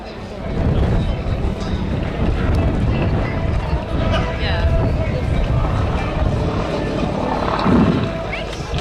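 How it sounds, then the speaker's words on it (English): A propeller aircraft at a flying display with a clattering 9-cylinder air-cooled radial engine of about 450 horsepower drones loudly and steadily, mixed with wind buffeting, while someone talks over it. "That clattering radial engine at the front, 9-cylinder air-cooled radial engine, 450 odd horsepower"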